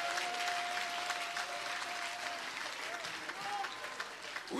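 Applause from a church congregation, a dense, steady clapping that fills the space from start to finish at a fairly even level.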